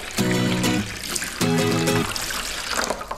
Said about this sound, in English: gonna add the water to the pool. Here it goes.